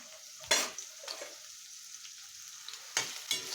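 Large onion slices stir-fried over full gas for paneer Kolhapuri, heard as a few sharp, close sizzling bursts as the pan is tossed, with quieter pauses between them.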